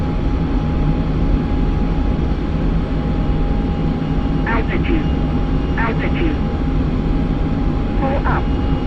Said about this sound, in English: I'm just full afterburner trying to catch up.